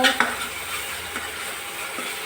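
Capsicum pieces cooking in a pan for pav bhaji, with a steady close sizzle and a few metallic stirring scrapes and clinks against the pan.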